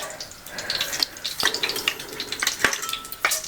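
Cumin seeds crackle in hot oil in a pan for a brinjal dish, with quick spitting pops and bursts over a thin sizzle, plus a couple of sharper clicks.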